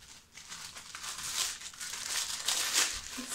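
Paper and plastic wrapping crinkles and tears as a perfume package is ripped open, a steady close rustling that swells and rasps in bursts, with no talking.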